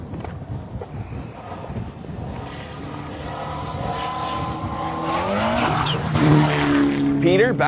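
Mitsubishi Lancer Evo X rally car on a gravel forest stage at the Oregon Trail Rally, engine note rising and swelling as it approaches and passes close by, with wind buffeting and spectators talking throughout.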